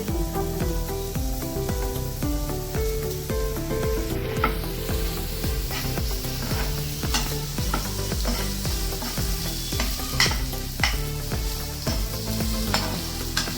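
Tomato slices frying in a pan with oil, sizzling steadily while a utensil stirs and scrapes, the clatter repeating at a quick, uneven pace close by, with no talk.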